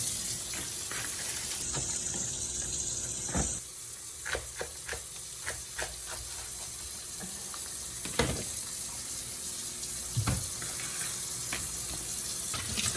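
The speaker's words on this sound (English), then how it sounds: "cleaning the leeks" Tap water runs steadily into a sink as leeks are washed, with scattered splashes and clunks of handling over a continuous faint wash.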